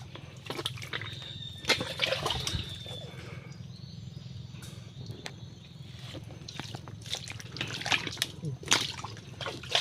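Creek water trickles and sloshes quietly nearby, with intermittent splashes and drips, and people talk over it.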